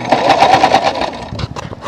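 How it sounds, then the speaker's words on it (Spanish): A wet home sewing machine runs with a steady whirring hum for about a second, then trails off into rougher, uneven mechanical noise. "mi máquina de coser está mojada, mira"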